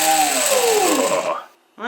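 A homemade brushless LEGO motor running on 12 volts whines loudly up close, its pitch falling steadily as it spins down before cutting out, and a voice begins right at the end.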